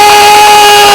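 A lawnmower engine in a horror film scene runs at a loud, steady, constant pitch without pause, a harsh droning roar with no voices over it.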